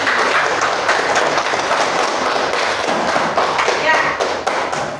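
Classroom audience clapping for group presentations, a continuous moderately loud patter of hands with some voices underneath.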